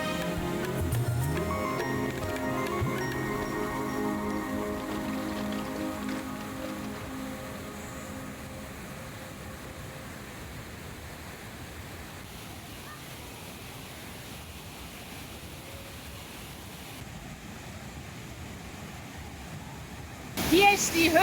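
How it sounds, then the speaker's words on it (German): Cold waterfall tumbling down before the entrance of a grotto in Mexico gives a steady, broadband rush of falling water that carries on evenly for the whole stretch, with music fading out early and a brief louder knock at the end. "der kalte Wasserfall, der sich vor dem Eingang in die Gruta herabstürzt"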